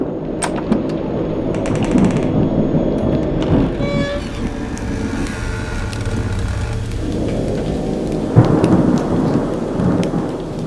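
A night thunderstorm with steady rain: low rumbling thunder rolls under the downpour, with a sharper crack near the end and no voices.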